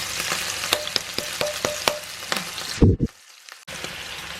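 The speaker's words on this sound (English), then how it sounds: "he switched the heat off because it's obviously still sizzling" Cod with capers sizzles and crackles steadily in a hot frying pan, with sharp pops and a brief clatter before the frying goes quiet for a moment.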